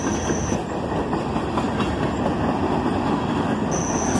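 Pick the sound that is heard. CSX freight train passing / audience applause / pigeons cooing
CSX freight train passing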